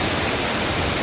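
Heavy rain pouring down in a steady, dense, uniform hiss that fills the whole moment, loud and close, with no voices over it.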